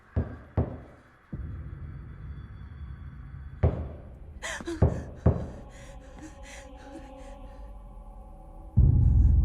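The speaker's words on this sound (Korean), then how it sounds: "또다시 들려오는 노크 소리와 함께 영화는 끝이" A few sharp, hollow knocks on a door land at irregular intervals against a dark, rumbling background in a horror film, with a heavier thud and low surge near the end.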